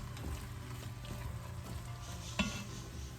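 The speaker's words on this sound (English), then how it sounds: "I'm just gonna let this meat brown just a little bit" Ground meat and vegetables for pumpkin chili sizzle softly in a pan, a steady low frying hiss close by with occasional light scrapes and a single clink of a utensil against the pan.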